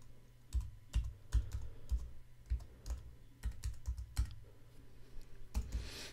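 Computer keyboard typing in a quiet room, an irregular run of clicky keystrokes with short pauses between bursts, heard alone with no voices.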